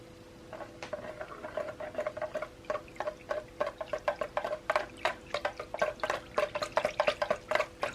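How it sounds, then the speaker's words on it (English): Melted soy wax being poured into melt molds produces a steady run of small liquid drips and splashes, close and fairly quiet, growing denser and more rapid toward the end with no talking. "So as soon as that wax hits 60, I'm going to pour."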